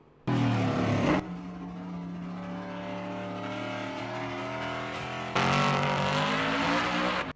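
Chevron B24 race car at Sandown circuit in a historic race, engine roaring loudly as it passes, a sustained harmonic drone with a sharper burst at the start and another surge near the end.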